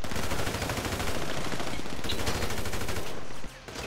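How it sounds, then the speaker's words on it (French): Dense, loud automatic gunfire in GTA 5 Online, rapid shots rattling almost without pause for over three seconds before cutting off abruptly, with no talking over it. "Mais planque-toi, je me prends des balles pour rien."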